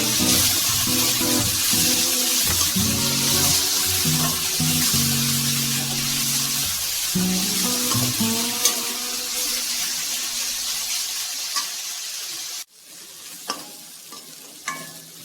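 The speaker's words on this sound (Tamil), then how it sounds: "இப்ப தக்காளியும் சேர்த்து 2-3 நிமிஷத்துக்கு வதக்கிக்கலாம்." Tomatoes sauté in a pan for snake gourd kootu, a close sizzle with repeated stirring scrapes that eases into quieter frying, then a few light clicks after an abrupt cut.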